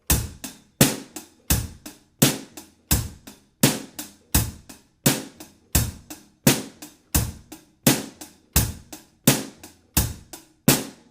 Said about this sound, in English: So just a basic 1 and 3 on the bass drum, along with what we've got already, going to sound something like this.